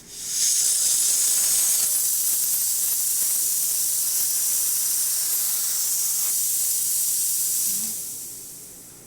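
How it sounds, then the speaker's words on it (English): Steam wand of an ECM Casa V espresso machine blasting a loud, steady high hiss for about seven seconds, close up, starting abruptly and tapering off at the end, with no talking. "now that the machine's hot, I'll show you the steam"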